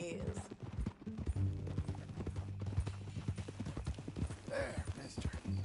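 Steady clip-clop of horse hooves walking at an even pace throughout in the video game Red Dead Redemption 2, with people talking over it and faint background music.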